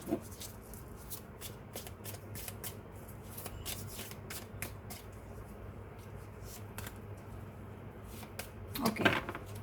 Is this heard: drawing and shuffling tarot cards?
yes